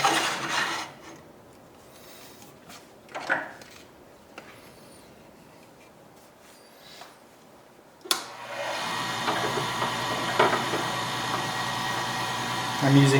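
A lathe turns a wood and micarta ring with a carbide-tipped tool, a steady close whirring and scraping that starts abruptly partway through after quieter handling noises and some talking.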